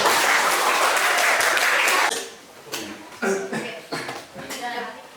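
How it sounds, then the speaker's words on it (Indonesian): Classroom applause during a religious-education lesson presentation session: a dense burst of clapping for about two seconds, then scattered claps and students chattering and laughing. "Beri tepuk tangan dulu"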